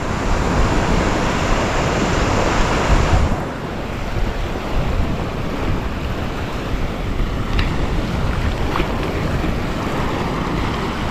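Ocean surf pounds the shore in a constant loud wash mixed with wind buffeting the microphone. The roar dips slightly partway through and continues without any voices.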